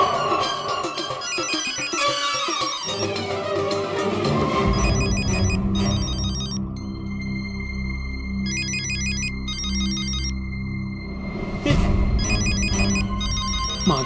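A mobile phone rings with a repeating electronic tone at home in an empty house while music plays underneath.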